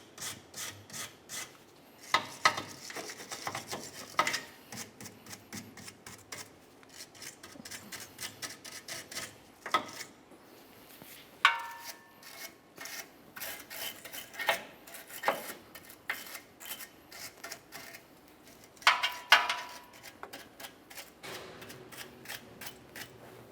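A wire brush scrubs the frame of a Ford Explorer Sport Trac, quiet rasping strokes in uneven bursts with a few sharper scrapes, close by and otherwise alone.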